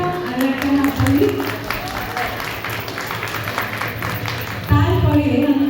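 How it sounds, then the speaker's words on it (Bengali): An audience at a Bengali New Year celebration applauds steadily throughout, with a fresh, louder burst of clapping near the end, while someone speaks over it. "আরো একটা হাততালি।"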